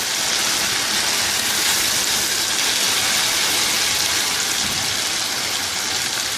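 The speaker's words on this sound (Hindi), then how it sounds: "और इसके साथ ही पानी शामिल करेंगे।" Water pours steadily into a cooking pan of sweet and sour chicken sauce with tomato ketchup, a continuous close hissing splash that holds evenly throughout.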